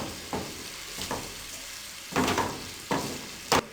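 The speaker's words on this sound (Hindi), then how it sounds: "अब इसको अच्छे तरीके से मिक्स कर लें" Chinese-style rice being stir-fried and mixed in a pan, with four separate scraping, tossing bursts spaced unevenly over a soft background hiss, fairly close and moderately loud, no talking.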